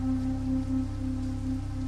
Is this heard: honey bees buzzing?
no